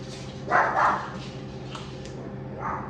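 A dog gives a few muffled barks, two close together then one more, from somewhere nearby against a steady low background hum.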